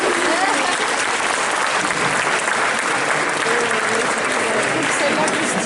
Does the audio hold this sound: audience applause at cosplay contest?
yes